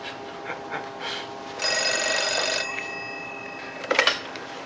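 An old telephone bell rings in one sustained, metallic burst of about a second, moderately faint over a low room hum, followed by a short clatter and no speech.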